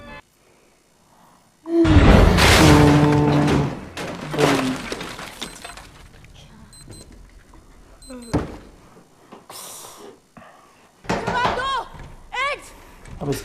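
A loud crash of something breaking in a horror movie scene, a burst of shattering and cracking followed by scattered smaller impacts, with voices talking over parts of it.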